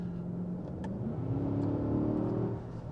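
Mercedes-AMG GLE 63 S engine revving up during a gearbox downshift, a steady loud mid-pitched roar that climbs and swells toward the end, heard close with no talking.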